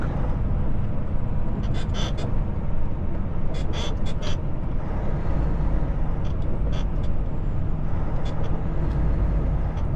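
A heavy truck engine hauling an oversize load in the game GTA rumbles loudly and continuously, with a few hissing brake-like bursts and squeaks scattered over the drone.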